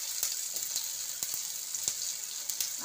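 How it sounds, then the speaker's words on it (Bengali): Chili, cumin and coriander powders fry in oil in a pan for a vegetarian paneer masala, a steady bright sizzle punctuated by scattered sharp pops and crackles, close and alone. "সব মশলাগুলো একটু ভালো মতন ভাজা হয়ে গেছে"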